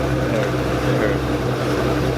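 A steady, loud low rumble of an idling Pagani Huayra engine with its stock exhaust, droning continuously without pauses.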